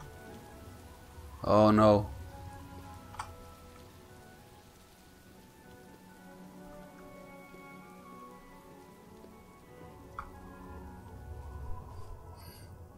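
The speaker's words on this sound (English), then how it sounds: "Very, very quick rain shower." Rain falling in the video game Oblivion, a steady soft patter on surfaces throughout, with a brief voice speaking near the start.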